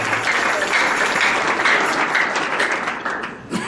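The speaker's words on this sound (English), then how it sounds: "Give the Lord a clap offering unto the Lord." A church congregation claps together in a steady, dense wash of applause, loud and sustained throughout before tapering slightly at the end.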